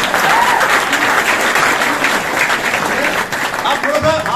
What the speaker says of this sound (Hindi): अपनी ताली हो जाए एक बार।